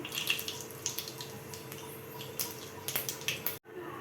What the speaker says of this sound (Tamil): கடுகு பொரிஞ்சதுக்கப்புறம்